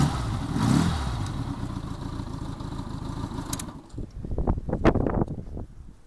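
A 1985 Honda GL1200 Goldwing motorcycle engine idles with a smooth, even rumble through a quiet exhaust, then cuts to quieter clattering and handling noises near the end.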